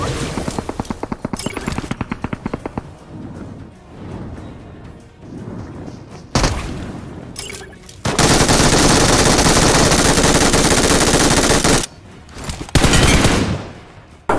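Gunfire in BGMI: a rapid burst of automatic shots up close, then quieter pauses, followed by long, loud sustained bursts of fire and a few more cracks near the end.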